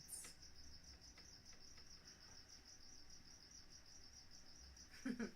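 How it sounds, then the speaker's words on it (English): Crickets chirp in a steady, rapid pulsing trill outdoors, fairly quiet, with a brief rustle near the end. "See, those are real crickets."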